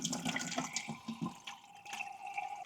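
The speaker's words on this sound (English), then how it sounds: "So I'm going to drain the rest of the water here and we are ready to go." Water drains from household pipes at a stopcock with gurgling, trickling and bubbling, a close, uneven, moderately quiet flow.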